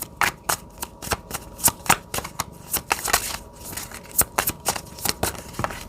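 Tarot cards being reshuffled by hand, a quick run of sharp papery riffles and flicks in an uneven rhythm, close and clear with no talking.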